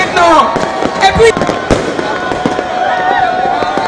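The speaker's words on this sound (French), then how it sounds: "De gigantesques feux d'artifice ont illuminé le ciel." Fireworks crackle and burst at a New Year celebration in Togo, a dense run of sharp pops and whistles over loud crowd noise and voices, close and busy.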